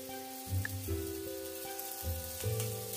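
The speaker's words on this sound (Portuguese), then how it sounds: "Então vou estar colocando aqui, já tá bem aquecidinha para fritar ele." Strips of fatty guanciale sizzling in a hot wok, a steady crackling fry with bursts of spatter; a low tonal hum sits underneath.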